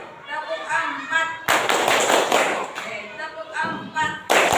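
A primary school class claps along in a counted rhythm, sharp loud bursts of many hands in quick succession at close range, alternating with a teacher and children chanting.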